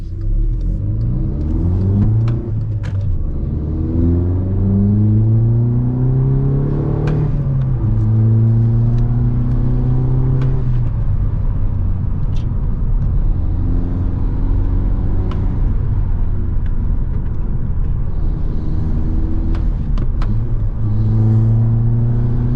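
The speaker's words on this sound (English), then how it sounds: "Little downshift there for you guys as well." A modified VW Golf MK6 with a 1.4 TSI engine revs up and downshifts while driving, the mid-pitched engine note climbing and dropping through several gear changes, loud and close throughout with steady road rumble underneath.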